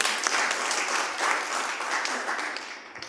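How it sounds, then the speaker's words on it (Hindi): An audience at a Teacher's Day event in Uttarakhand applauds a teacher with dense, sustained clapping that fades slightly near the end. "एक बार उनके लिए पुनः तालियां।"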